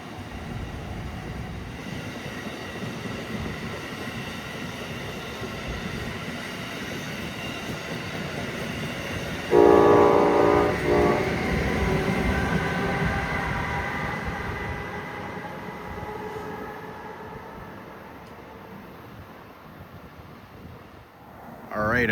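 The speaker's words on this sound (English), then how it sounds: "Here is 2170, another next-gen Acela." A next-gen Acela passenger train rushes past with a rising, wind-buffeted roar and a brief horn blast partway through, then fades away in the distance.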